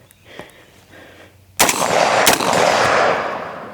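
A rifle with a metal lower fires two sharp, loud gunshots in quick succession, the first blast followed about a second later by a second crack, after faint handling noises in a quiet space.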